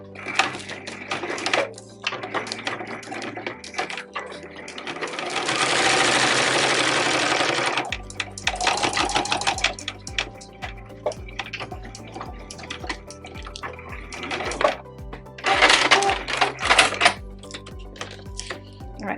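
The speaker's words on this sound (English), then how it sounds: "I'm going to stitch it with a 1/4 inch seam allowance" A sewing machine stitches a 1/4 inch seam with back stitches on a waxed snack pouch made of beeswax or vegan wax. It runs in several rapid, close bursts of a few seconds each, with quiet pauses between them.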